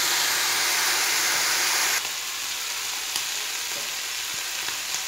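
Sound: shrimp frying in oil

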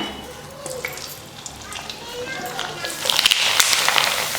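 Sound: spinach papad frying in hot oil

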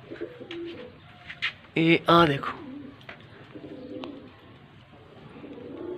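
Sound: pigeons cooing and flying

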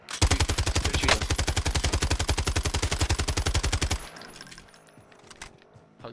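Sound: gunfire in Call of Duty: Modern Warfare video game

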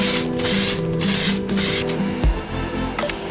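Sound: spraying clear lacquer coat onto grill inserts

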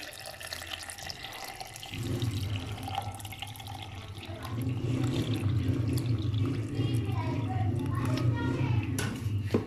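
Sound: pouring water

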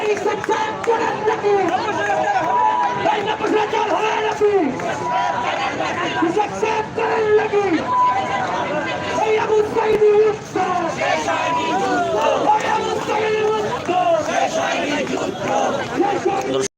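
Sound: crowd at a broom protest march

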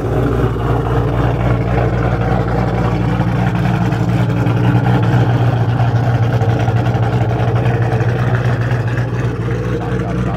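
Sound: cammed high-horsepower car engine at car meet

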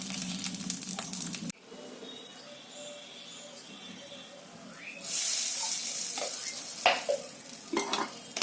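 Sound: frying lentil dumplings in oil

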